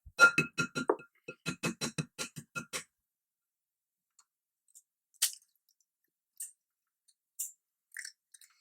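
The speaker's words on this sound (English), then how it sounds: "we're going to crack an egg" An egg being cracked against a bowl edge while making salted caramel brownies at home: a quick run of sharp, close taps and cracks, then a few faint, scattered clicks and a near-silent stretch.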